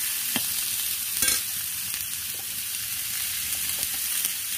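Potato and pointed gourd frying in oil in a wok give off a steady sizzle, with a couple of brief stirring scrapes and clinks breaking through the constant hiss.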